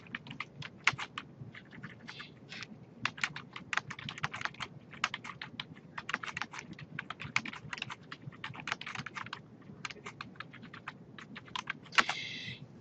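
Typing on a computer keyboard while entering a quote into Microsoft Word, with rapid irregular clusters of close key clicks and brief pauses between bursts.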